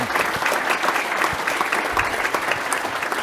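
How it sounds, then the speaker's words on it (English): A conference audience at a youth sports plenary session claps for its panelists, a full, even burst of many hands with occasional louder individual claps standing out. "a round of applause for our panelists"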